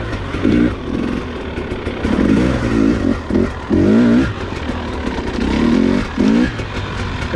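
A 2021 Husqvarna TX300i two-stroke dirt bike engine revs in repeated throaty bursts, loud and close, rising and falling between short idles.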